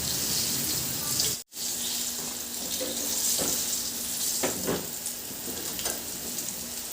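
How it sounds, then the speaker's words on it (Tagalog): Eggplant slices frying in hot oil in a pan give a steady broadband sizzle throughout, with a brief dropout early on and a few soft utensil taps scattered through the hiss. "Ihalo lang at iprito hanggang sa maluto o mag-crunchy na yung ating talong."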